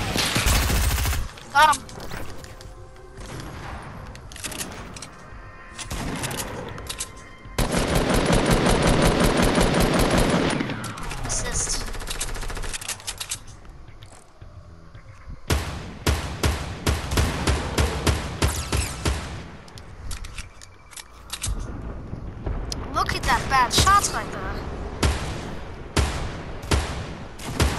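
Scoped assault rifle fire in Fortnite Battle Royale: rapid bursts of automatic shots, including one long sustained volley, come in clusters separated by brief lulls, while someone talks excitedly over the action.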